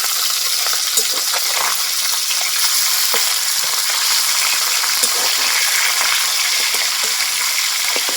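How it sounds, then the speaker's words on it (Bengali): Rui fish sizzles steadily in hot oil in a pan while the pieces are flipped, the loud, constant frying hiss broken by scattered sharp clicks and taps of the turning. "মাছগুলো একদিক ভাজা হয়ে গেছে, উল্টে দিচ্ছি।"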